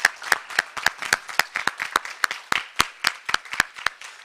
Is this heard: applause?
yes